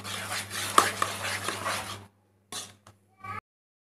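Bread halwa being stirred in a pan, a steady scraping and stirring for about two seconds followed by a few short, separate stirs, close and fairly loud with no talk over it.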